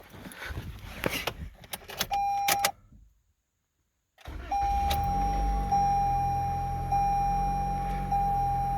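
A 2020 Toyota Corolla, just after a spark plug replacement, has its keys jangle and a door chime beep before a brief silence. The engine then cranks and catches, settling into a steady, close idle with a chime tone repeating over it.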